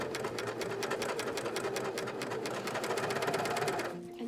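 Coverstitch sewing machine stitching a garment hem, a fast even rapid-fire needle clatter close by, running steadily for about four seconds before stopping.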